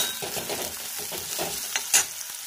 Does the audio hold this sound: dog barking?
no